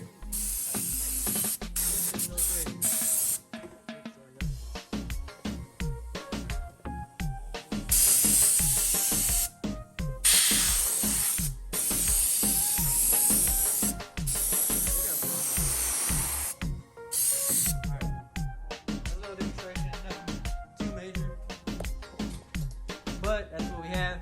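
A Ridgid 4.5 gallon air compressor blows air through a nozzle in loud, forceful hissing bursts of varying length, separated by short pauses and underlaid by a low mechanical hum.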